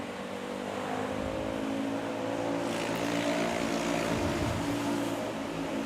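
A Bombardier airliner at Manila's Ninoy Aquino International Airport produces a steady, loud, broadband engine roar with tonal whine that holds throughout, heard from a spotting position with no talk.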